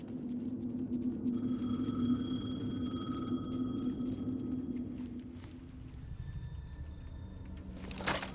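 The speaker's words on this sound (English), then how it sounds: "The payphone was ringing." A payphone rings in the video game Alan Wake 2, repeated electronic ring tones over a steady low ambient drone, with a distant rumble and a further fainter ring near the end.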